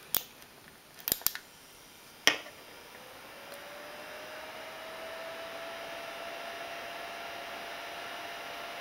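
A few sharp clicks and snips come first, then a small heater for softening nail wraps switches on and blows with a steady, faint airy hum that continues to the end.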